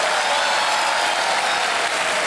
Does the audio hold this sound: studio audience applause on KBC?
yes